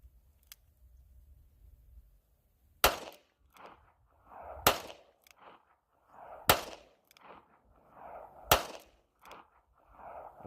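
Revolver and semi-automatic pistol shots fired outdoors, four loud sharp cracks spaced about two seconds apart, each trailed by a short echo, with quiet muffled talk in the gaps.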